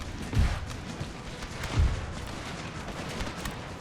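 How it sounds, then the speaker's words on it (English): Grenades burst during a battle in the strategy game Empire: Total War, two deep, muffled booms about a second and a half apart over a constant rumble of distant gunfire. "these guys just threw a bunch of grenades"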